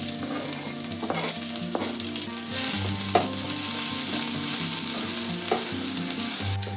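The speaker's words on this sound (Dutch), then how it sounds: "En dan ga je dan die ui en knoflook in fruiten." Onion and garlic fry in olive oil for Portuguese rice with chorizo and seafood, a loud, close, continuous sizzle with stirring scrapes and occasional clinks over soft background music.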